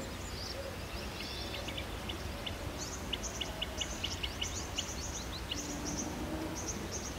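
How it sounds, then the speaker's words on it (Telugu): Birds chirp and tweet in quick, repeated high calls at a construction site where tower dewatering work is going on. The calls sound fairly close and come in loose bursts over a steady low background rumble. "ఇక్కడ పక్షులు చక్కగా చూడండి, సౌండ్స్ ఎట్లా ఉన్నాయో"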